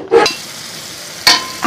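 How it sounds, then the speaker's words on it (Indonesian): Spice paste for an Indonesian cassava leaf dish stir-fried in a pan, with two short bursts of sizzling and stirring, one near the start and one near the end, separated by a quieter low frying hiss. "buat sayur daun singkong kita tumis-tumis sampai harum"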